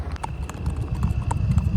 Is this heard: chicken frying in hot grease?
no